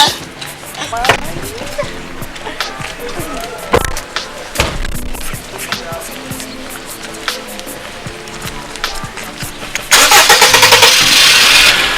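A car engine cranks and catches, then settles into a steady running rumble that grows louder near the end, with people talking over it.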